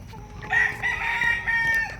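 A rooster called Cobra King crows once, loud and close, in a single drawn-out call lasting over a second against faint farmyard background.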